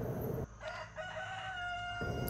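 A rooster crows loudly and close by among free-range chickens on a hillside pasture, its long drawn-out call running for most of two seconds with no talk over it.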